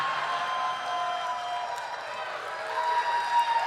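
Audience at a live soccer-celebration show in Columbus claps and cheers in a steady, dense wash of applause, holding moderately loud throughout and swelling slightly near the end.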